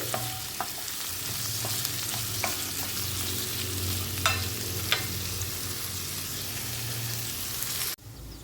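Long-sliced large onions sautéing in a pan for Kerala-style fish molee, a steady close sizzle with occasional utensil clicks and stirring scrapes, no talk, cutting off near the end.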